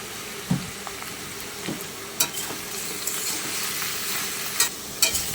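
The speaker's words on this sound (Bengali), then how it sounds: "আমার এঁচড়গুলো ভাজা হয়ে গেছে" Raw jackfruit pieces fry with salt and turmeric in a pan, a constant close sizzle punctuated by several sharp spatula knocks and stirring clicks spaced a second or so apart, with no voices.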